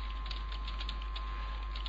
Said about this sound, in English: So I can do a little bit of typing here